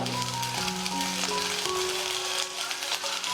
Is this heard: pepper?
yes